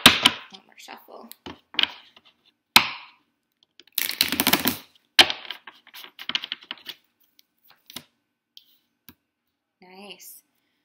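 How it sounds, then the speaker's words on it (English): Quick riffled bursts of card shuffling, crisp papery flutters and snaps separated by pauses, close and fairly loud, ending in a brief murmur. "One more shuffle."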